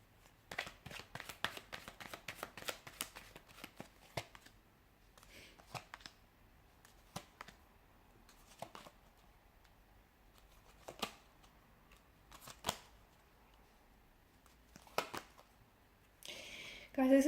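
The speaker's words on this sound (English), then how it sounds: "we'll give the cards a shuffle" Tarot cards shuffled by hand, close and quiet: a rapid flurry of crisp flicks and snaps at first, then sparser single riffles spaced apart, ending in a louder rustle.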